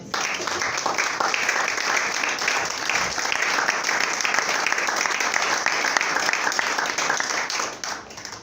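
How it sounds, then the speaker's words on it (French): A church congregation claps and applauds in praise of the Lord, a dense, steady wash of many hands that lasts several seconds before tapering off near the end. "Est-ce que tu peux acclamer le Seigneur?"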